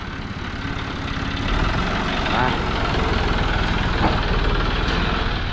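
A John Deere 5075E three-cylinder turbo tractor idles nearby with a steady, low rumbling drone, while someone talks over it.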